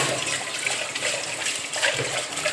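Running water splashing over dirty dishes as they are rinsed in clean water at a kitchen sink, a steady continuous gush lasting the whole stretch with no talk.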